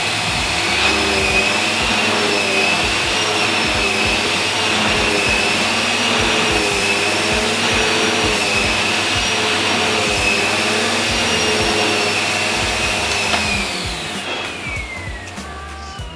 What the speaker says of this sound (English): with the turbo tool it's a lot better if you're using the higher end of suck power. So let's get that turned up.